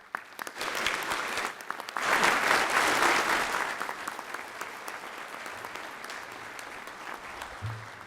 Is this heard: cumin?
no